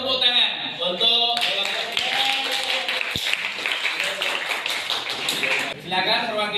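Children in a classroom lesson on Quran recitation rules break into a few seconds of quick, scattered clapping at close range. A teacher's voice is heard before and after it.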